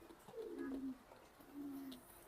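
A raced male racing pigeon from the FC club, hatched in 2022, gives two soft, low rolling coos a moment apart, faint and alone with no talk.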